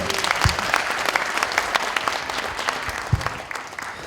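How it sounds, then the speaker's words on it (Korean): An audience at a Korean lawmaker's legislative report meeting breaks into a sustained round of applause, dense and fairly loud, with a few heavier claps close by. "큰 박수 한번 더 부탁드리겠습니다"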